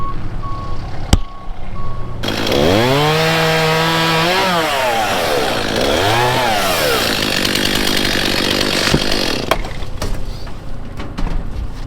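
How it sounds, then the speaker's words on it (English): A chainsaw fells a tree, the engine revving up and down loudly and close with rising and falling pitch sweeps, then dropping to a rough idle with clunks at the end. "I reckon there might be a comment or two about how easy a chainsaw is to start"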